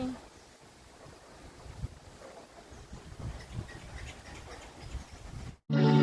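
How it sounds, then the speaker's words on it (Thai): Wind blows through a bamboo forest cafe in Lop Buri, making a low, gusty rumble that buffets the microphone. It cuts out abruptly near the end before a loud burst returns. "ลมพัดมานะคะ เย็นสบายมากค่ะ"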